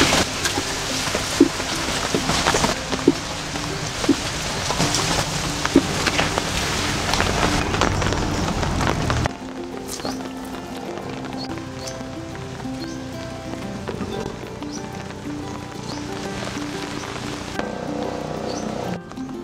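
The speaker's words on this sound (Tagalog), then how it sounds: "medyo lumakas-lakas nga po yung ulan." Heavy rain falls outdoors in a steady, dense hiss. It pours hardest for the first half, then eases to a softer, lighter patter, with no talking.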